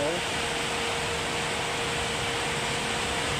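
A seven-blade car radiator fan, fitted in place of a four-blade one, runs as a steady, close, loud whooshing roar of moving air with an even hum and no breaks.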